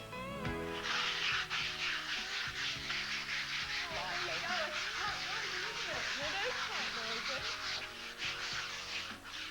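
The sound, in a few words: sanding a painted wall surface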